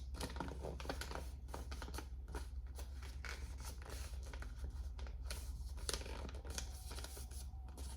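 A sheet of paper is folded into a glider paper plane, with crisp creasing and rustling as the wings are pressed down, over a constant low hum. No one speaks.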